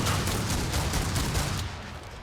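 Rapid gunfire from the HRG Buckshot weapon in Killing Floor 2 crackles in a dense, sustained burst of overlapping shots that thins slightly at the very end.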